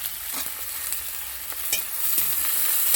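Chopped potatoes along with minced onion hit a hot frying pan in a cooking pan for an okra dish, giving a steady broadband sizzle with a few light stirring clatters, fairly close and continuous.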